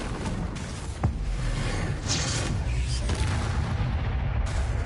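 Fiery blasting-spell explosions in a video game, a dense rumbling roar with a sharp crack near the start and further bursts, steady and loud throughout with no speech.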